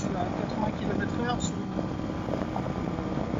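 A Honda Varadero 125 motorcycle rides at about 80 km/h on a main road, its engine hum steady under heavy rushing wind noise, with a voice talking over it.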